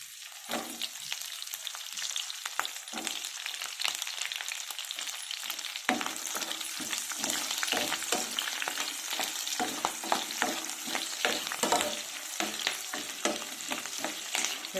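Onions and green chillies frying in a pan for vegetable pulao, a steady broadband sizzle throughout with frequent scraping stir clicks, close and fairly loud, no voices.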